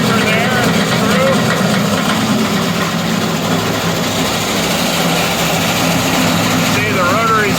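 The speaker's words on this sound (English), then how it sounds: "unit fires right up, runs strong, starts strong." Motors on a Hutch C-1600 rotary grain cleaner run steadily, a loud, continuous mechanical drone and hum with the auger and rotary screen turning, and a voice talking over it.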